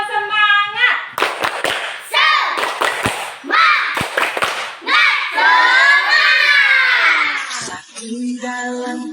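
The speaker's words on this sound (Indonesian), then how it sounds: "Yuk, sebelumnya kita tepuk semangat dulu." Primary schoolchildren in a classroom perform a rhythmic spirit clap chant, bursts of loud unison claps alternating with shouted, sung chanting voices, close and energetic, ending with a sustained tonal note.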